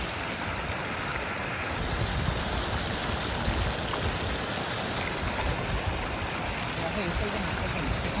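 A stream of water pours down at a fishing spot, making a steady, dense rushing splash that stays even and fairly close for the whole stretch.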